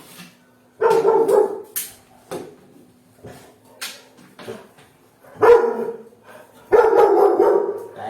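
A puppy barks loudly and close by in a string of sharp, separate bursts spread across the stretch, some single yips and some longer clustered volleys, with short quiet gaps between them and no talking.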